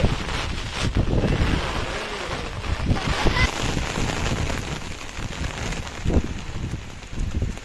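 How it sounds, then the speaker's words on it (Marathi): Strong wind gusts across an open farm field, buffeting the microphone in uneven rumbling bursts. Rushing noise rises and falls throughout, and voices are faintly present. "बापरे लय वारा आला रे"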